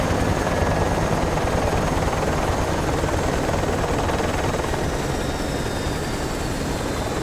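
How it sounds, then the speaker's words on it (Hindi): A helicopter in the Project IGI video game makes a steady, loud rotor and engine roar that fills the whole stretch without a break, with no talking. "ये वही हेलीकॉप्टर है जो सेकंड लास्ट मिशन में हमने वहाँ से एंड से पिक किया था"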